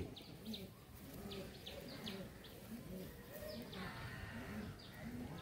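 Pigeons in a Howrah loft coo in soft, repeated low rolling calls, several birds overlapping near and far, with occasional brighter chirps and rustling in the background.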